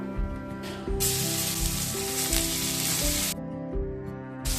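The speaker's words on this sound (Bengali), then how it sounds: "তেলের মধ্যে সামান্য লবণ দিয়ে দেব, দিয়ে পনিরগুলোকে ভেজে নেব।" Paneer frying in salted mustard oil in a frying pan gives a loud, steady sizzle that holds for several seconds, with soft background music underneath.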